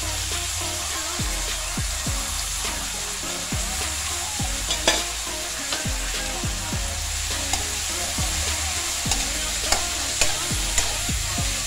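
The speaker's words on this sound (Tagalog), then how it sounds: "Haluin lang natin siya para pantay na pantay ang pagkakaluto." Ampalaya (bitter gourd) fries in a pan while a spatula stirs it, a continuous bright sizzle punctuated by regular scraping strokes and occasional soft clanks, close and fairly loud.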